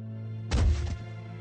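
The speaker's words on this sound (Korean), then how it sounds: "쿵 하고 사람이 떨어지는 소리가 들렸습니다" A person falling lands with a single heavy, close thud, a short dull impact that fades over a low steady hum, used as a sound effect.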